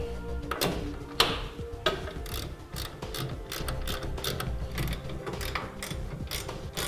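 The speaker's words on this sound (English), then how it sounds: "Just barely enough room for a socket, a short socket and a ratchet to fit." A ratchet with a short 9/16 socket tightens headache rack mounting hardware on a 2015 Chevrolet pickup, giving rapid, close metallic clicking in uneven bursts throughout.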